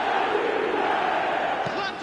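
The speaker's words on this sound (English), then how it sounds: "the crowd are reacting to that now" A football video game's stadium crowd gives a steady, loud roar of reaction, a dense continuous wash of noise that barely dips throughout.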